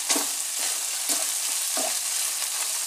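Tomato paste is stir-fried in a pan for a spaghetti bolognese sauce, with soft sizzling underneath and about four distinct scraping strokes of a spatula against the pan, close by and unhurried.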